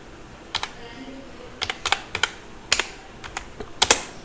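Fingers typing on a computer keyboard, a dozen or so crisp close key clicks in uneven bursts and short runs over a quiet room background.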